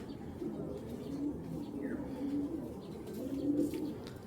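Racing pigeons cooing softly, with several low, rounded coos recurring through a quiet, close loft scene.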